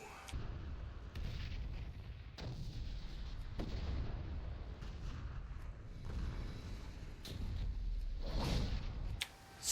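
Bombs exploding during a World of Warcraft Legion fight, a string of deep booming blasts and thuds spaced a second or two apart over a rumbling battle background, moderately loud.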